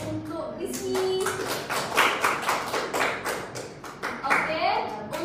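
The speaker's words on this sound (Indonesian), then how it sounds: "Mari kita beri aplaus untuk Rizky." A classroom bursts into applause for a student, several seconds of dense, steady clapping from many hands close by, with a few voices speaking over it.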